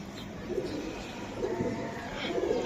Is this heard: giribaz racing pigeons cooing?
yes